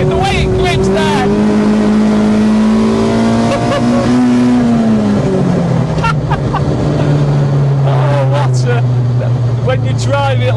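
A modified one-off mk2 Golf GTI engine revs hard and loud while climbing through an uphill right-hand bend, pitch rising then dropping in sustained strained tones, with tyre and road noise beneath and a voice talking over it.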